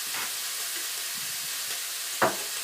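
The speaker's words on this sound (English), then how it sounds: "And while that sizzles away" Constant soft sizzle of cauliflower rice frying in a pan, with a single sharp knock or clink near the end.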